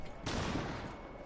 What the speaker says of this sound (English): No, why do you keep shooting?